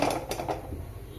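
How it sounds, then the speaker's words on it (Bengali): A metal wok set down on a gas stove in a home kitchen gives a couple of short clanks and scrapes, close, followed by a low steady background rumble. "কড়াই বসিয়ে দিচ্ছি।"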